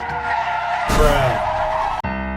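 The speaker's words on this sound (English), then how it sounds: "the inciting incident for this movie is another car accident" A movie car accident: tires skid and squeal, then a loud crash hits near the middle, with music playing throughout.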